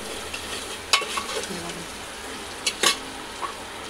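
Onions sizzle and fry in a pan while being stirred, with a steady soft sizzle and a few sharp scraping clinks of the spoon against the pan, close and clear with no talk.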